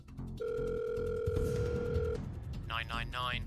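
Telephone call to the 999 emergency line: a steady connecting tone, then a rapid electronic ringing pattern, with a voice heard faintly under the line sounds.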